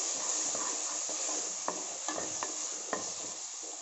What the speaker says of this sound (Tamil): ஸோ இப்போ பார்த்திங்கன்னா இஞ்சி பூண்டு பேஸ்ட்டும் ஆட் பண்ணிட்டேன். எல்லாத்தையும் நல்லா வதக்கி விட்டுக்கலாம்.